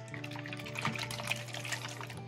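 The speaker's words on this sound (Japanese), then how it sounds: "で、さっきのね、ボトルに一つとりあえず水を入れてみました。" Water moves inside a filled squeeze bottle from a 100-yen shop, making a close, soft liquid trickle and slosh over a low steady hum, with no talk.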